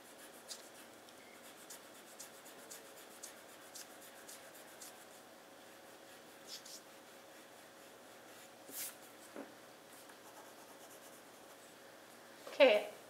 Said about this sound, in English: So we're shading the same way using the side of our pencil.